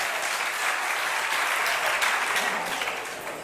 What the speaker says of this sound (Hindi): ताली तो बजा, तुम्हारे लिए बोल रहा हूं मैं।